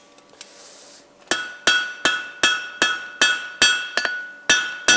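A hot iron flat staple is hammered closed on a blacksmith's anvil, ringing in eight sharp, metallic strikes at a steady rhythm after a short quiet lead-in, each blow leaving a bright decaying clang.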